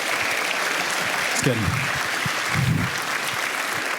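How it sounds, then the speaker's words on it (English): Audience applause for a panel at a talk event, a steady wash of clapping from a crowd with a short spoken word over it. "will you guys give them a round of applause and say thank you for them?"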